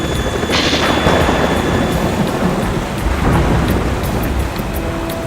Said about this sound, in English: I always felt like that helicopter was going backwards.